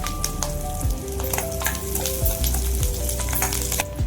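Onion and garlic sautéing in a pan with dried red chillies and curry leaves, a loud close sizzle with stirring scrapes and a few tonal clinks.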